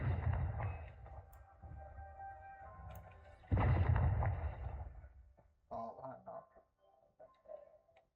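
A Bombarda explosion spell goes off in Hogwarts Legacy: a sudden loud blast partway through, followed by rumbling debris. Quieter thuds and ambient game sounds come before it, with a voice talking in places.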